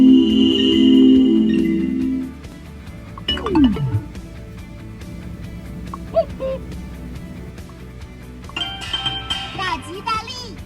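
A sequence of four distinct electronic car lock confirmation chimes and melodic tones, separate short jingles with gaps between them, fairly clear and close.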